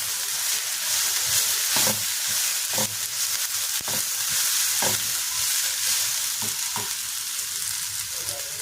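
Garlic and Byadgi chillies fry in a hot pan with a steady loud sizzle and hiss, broken by soft periodic scrapes and taps of a spoon stirring, with no talk.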